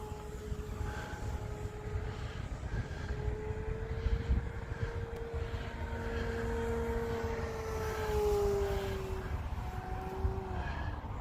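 A Sbach RC airplane flies at half throttle, its motor whining steadily with pitch that rises and falls as it passes, over constant outdoor wind noise.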